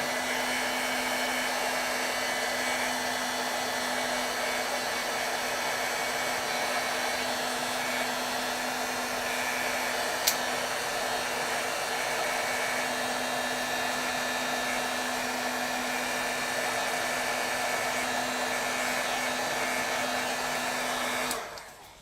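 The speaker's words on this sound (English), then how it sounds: "I need to heat set this because I'm going to be applying some of the white pigment ink over the top of it" An electric heat tool blows for about twenty seconds to heat-set ink on paper, a loud, steady, close whirring hiss with a constant hum that cuts off at the end.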